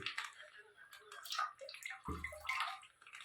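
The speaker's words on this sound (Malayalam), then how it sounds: "എണ്ണ ഒഴിച്ചുകൊണ്ടിരിക്കുകയാണ് അവിടെ എണ്ണ അങ്ങോട്ട് പാമോയില ഒഴിച്ചേക്കുന്നത്" Palm oil being poured into a pan on the stove for chicken biryani, a soft, continuous liquid splash and trickle heard faintly and close up.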